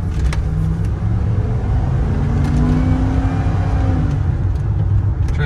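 The 5.0-liter V8 of a 1994 Ford F-150 XLT with an automatic transmission revs up close by, its deep rumbling idle rising into a couple of smooth climbing revs before settling back, with no talk over it.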